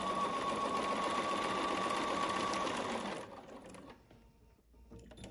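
A sewing machine runs steadily while stitching a straight line along a guide bar for a bag, loud and continuous before stopping abruptly, leaving quiet room noise.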